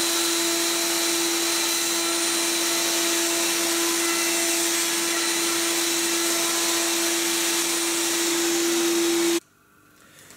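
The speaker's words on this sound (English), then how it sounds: "so you can now start routing" A handheld router cuts letters into a wooden sign with a Milescraft sign-making kit, giving a loud, steady high-pitched whine with a strong tonal hum. It runs continuously for about nine seconds, then stops abruptly.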